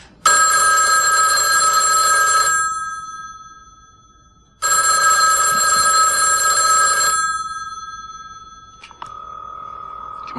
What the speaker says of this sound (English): Come on, kid, answer the phone.